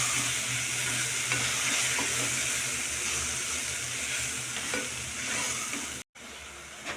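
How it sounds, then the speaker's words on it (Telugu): Pigeon peas, tomatoes and ground spice powder stirred in a pan, giving a steady close sizzle and hiss with faint scraping, cut off by a brief drop to silence near the end. "ఇప్పుడు ఇదంతా ఒకసారి బాగా కలుపుకోవాలి"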